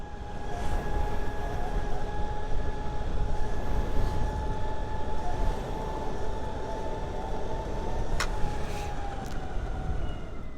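A JKING Jupiter X all-terrain electric skateboard climbs a hill at full throttle in third speed, giving a steady loud whine with tonal hum over rough rolling rumble and wind noise throughout.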